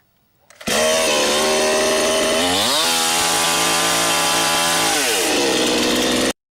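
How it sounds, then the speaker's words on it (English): A chainsaw starting up and running at a demolition event: after a brief quiet rustle it roars to life loud and close, revving down and back up twice before cutting off abruptly, with no voices. "it's not how you're supposed to start a chainsaw"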